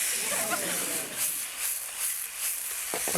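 Steady loud sizzling and hissing of turkey curry stir-frying in a hot pan, continuous throughout with slight swells, a voice faintly underneath.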